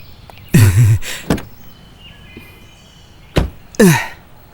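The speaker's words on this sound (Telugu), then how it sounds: "డోర్ని కాస్త మెల్లగా వేయలేవా?" A door shut firmly, probably a car door, giving two sharp thuds a couple of seconds apart, each accompanied by brief squeaky vocal sounds in an otherwise quiet space.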